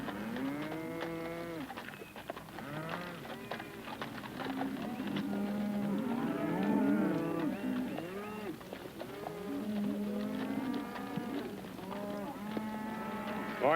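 A herd of cattle on open range moos again and again, many overlapping low bellows and drawn-out calls from several animals at once, fairly close and loud with barely a break.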